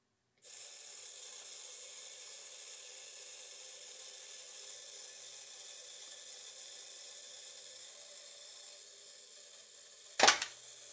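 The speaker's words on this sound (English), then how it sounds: "you should hear it clunk when it releases" Bronica camera's mechanical self-timer whirring faintly for about ten seconds, then releasing with a single sharp clunk near the end, close and otherwise quiet.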